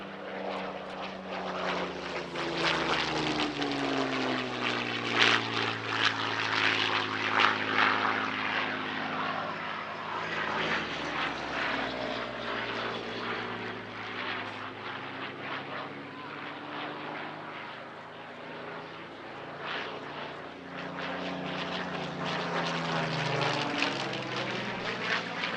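The Shuttleworth Collection's Spitfire Mk. V AR501, a propeller fighter, flies past at the Shuttleworth airshow, its engine a continuous rich drone that rises and falls in pitch as it passes, loud throughout.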